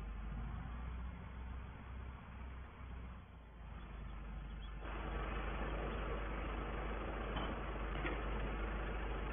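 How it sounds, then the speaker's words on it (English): A farm tractor engine runs steadily on a farm, being driven up to a straw blower, giving a loud, constant low rumble and broadband roar with a slight rise partway through and no talking. "we shall get this tractor up to the straw blower"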